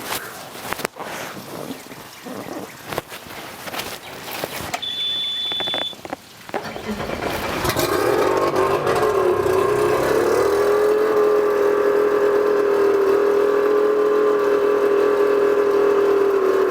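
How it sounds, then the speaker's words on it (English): A boat engine cranks and catches on the first turn after winter storage, then settles into a steady, loud running drone that continues to the end. "She started up beautifully on the first turn."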